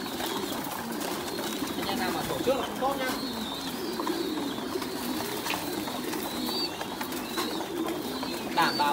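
A pair of pigeons raising young on a farm, soft low cooing murmuring steadily in the background while someone talks over it, with faint flutters and chirps from nearby birds.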